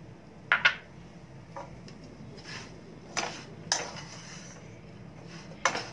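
Spoon stirring cardamom powder and nuts into a sweet pea and coconut pede mixture, giving a few scattered light metallic clinks and scrapes against the pan, fairly quiet with pauses between.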